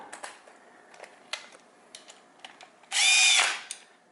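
Power drill driving bolts while fitting a jockey shifter and suicide clutch on a motorcycle, one short loud burst of whirring near the end after a run of quiet clicks and handling taps.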